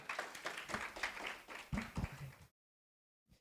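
Church congregation clapping for Jesus at a revival service, uneven moderate claps and a few louder hits for a couple of seconds before sudden silence.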